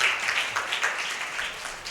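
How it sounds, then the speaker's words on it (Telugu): A church congregation at a Telugu service claps together loudly, a dense, sustained wash of many hands with no break and no voices heard over it. "గట్టిగా చప్పట్లు కొట్టి దేవునికి మహిమ చెల్లించండి"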